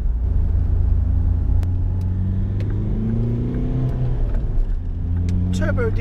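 A turbo diesel car engine revs up and accelerates with a steady low drone and rising pitch, heard from inside the vehicle, with no talking.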